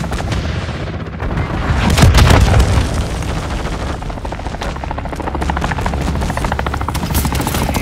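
Heavy artillery rounds explode in Call of Duty: Modern Warfare II, with a loud booming swell near the start that gives way to a continuous roar of gunfire and rumbling battle noise.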